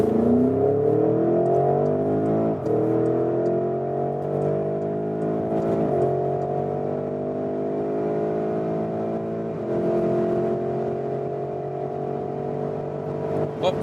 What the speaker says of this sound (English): what an impressive acceleration and great sound as well from this 4-liter V8 bi-turbo, 460 horsepower here in the GTS version